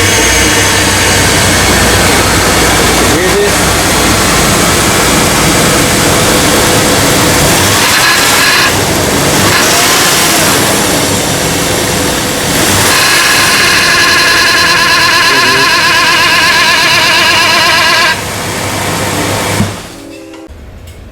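A 2004 Jeep Wrangler engine runs loud and close, its dense steady roar holding throughout with shifts in tone near the middle before dropping off at the end.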